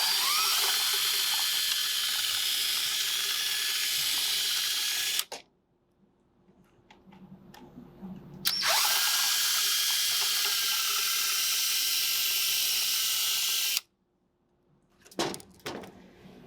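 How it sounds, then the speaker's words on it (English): A high-pitched power drill whines in two long bursts drilling out aluminum rivets on a Volkswagen Touareg window regulator, separated by a quiet pause, followed by brief clicks and clatter. "I have this drill with this drill bit is probably a little bit too big right here"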